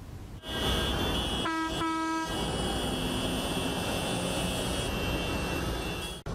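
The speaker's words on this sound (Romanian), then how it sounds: "o parte din fermieri au mers claxonând de pe bulevardul Ștefan cel Mare spre calea ieșilor" Tractor horns honk during a farmers' protest in central Chișinău. Two short, loud tonal blasts stand out briefly over a steady roar of engines and street noise.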